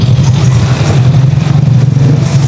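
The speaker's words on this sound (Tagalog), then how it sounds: "Yun ganito nakatining yung makina natin." Rusi Chariot 175 motorcycle engine idling close by, a loud steady low thrum with a slight rhythmic clatter and no talk.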